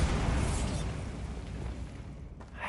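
A Bombarda spell blast in the Hogwarts Legacy video game, a broad rumbling explosion that swells at once and then slowly decays, fairly loud and alone.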